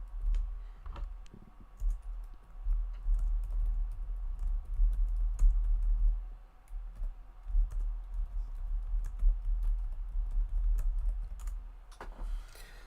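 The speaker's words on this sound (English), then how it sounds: "Sorry for the clicking and clanking of the laptop keyboard there." Rapid clicking and clacking of typing on a laptop keyboard, close and steady throughout with irregular bursts of keystrokes over a low background hum.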